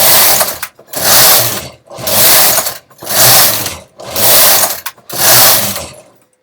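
A knitting machine carriage runs back and forth across rows of mock rib trim: six steady, loud mechanical sweeps, each about a second long with short pauses between, nearby and with no talking.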